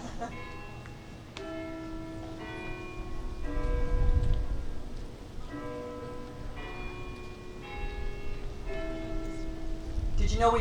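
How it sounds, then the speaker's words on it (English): Bells ring at a college first-year convocation, a repeating sequence of tuned chimes sounding in clear phrases over a low murmur of a gathered crowd. "First the bells."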